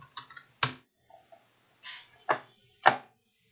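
Sparse, irregular clicks and taps of typing on a computer keyboard, a few sharp keystrokes spaced out with silence between them, close and clear with no talking.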